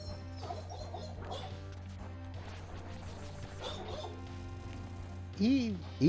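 A dog barks indoors, two sharp, loud barks near the end, cutting over ongoing talk and video game music.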